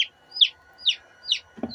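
Chickens bought from a Tractor Supply store, some sick with avian pox, give three or four evenly spaced sharp chirping calls up close. A brief low sound follows at the end.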